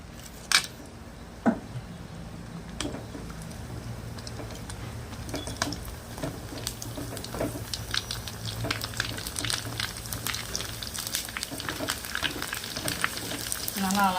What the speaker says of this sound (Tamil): இப்போ பூரி பொரிச்சிடலாம்.